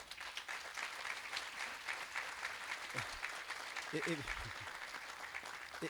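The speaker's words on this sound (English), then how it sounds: "Let's give him a round of applause." A crowd at a groundbreaking ceremony for a collegiate academy applauds steadily, a soft, even wash of clapping with a few voices briefly audible underneath.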